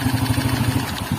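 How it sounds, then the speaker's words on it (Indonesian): A motorcycle engine, just back in running order after its spark plug and ignition system were checked, runs steadily close by with a fast, even, throbbing idle pulse and no talk. "berhasil menyala ya mesinnya"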